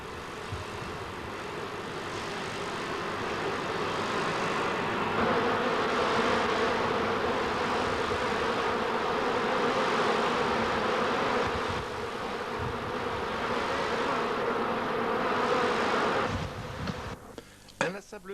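A dense, continuous buzz of many honeybees, close and steady for most of the time, thinning out near the end.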